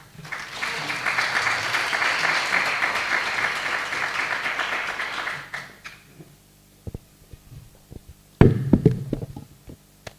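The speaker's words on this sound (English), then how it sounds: "A lot of applause." Applause from a conference audience at a housing event, loud and sustained for about five seconds, then fading into scattered claps and a few knocks.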